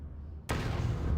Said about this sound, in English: See what the sonic grenade does.